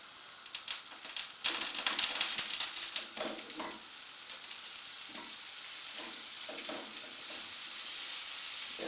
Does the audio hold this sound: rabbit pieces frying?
yes